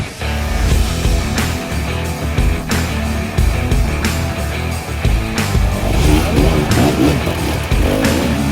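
An enduro motorcycle engine runs loud and close on a winter trail ride in Sardinia, revving and surging unevenly in bursts throughout without a pause.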